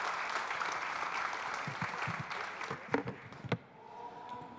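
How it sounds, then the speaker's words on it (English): Audience claps at a football season kickoff press conference, a dense round of applause that thins out into a few scattered, louder individual claps before dying away. "Let's give another round of applause for these awesome gentlemen."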